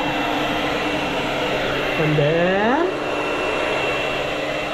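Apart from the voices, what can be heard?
blower dryer running while drying a shih tzu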